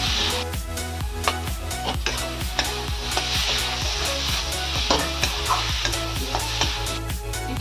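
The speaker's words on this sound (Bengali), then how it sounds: "গরম মশলা দিয়ে নাড়াচাড়া করে নামিয়ে নেব।" Jackfruit filling with spices frying in hot oil in a pan and being stirred, heard as steady close sizzling broken by a regular rhythm of utensil scrapes and taps against the pan.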